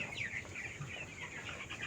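Seventeen-day-old poultry chickens cluck softly and repeatedly in a quiet, fairly faint series of short calls, with no talk.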